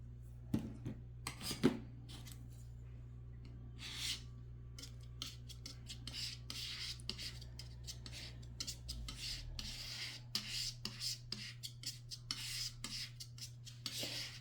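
A palette knife scrapes and smears oil paint across a palette in short, close rasping strokes, repeated irregularly with quiet pauses and a steady low hum underneath.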